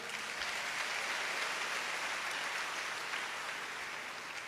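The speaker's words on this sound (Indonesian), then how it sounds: "Tepuk tangan yang meriah." A sustained wash of applause from a church congregation, steady and fairly distant, with no voices standing out.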